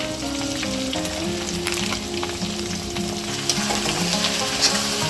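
Andhra-style potato mudda fry seasoned with salt and turmeric, stirred in a pan: a continuous loud sizzle with repeated scraping of the spoon and a faint steady tonal hum underneath.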